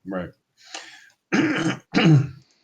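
A man clears his throat in a few rough, separate bursts at close range, with short silent gaps between them and no speech around the sounds.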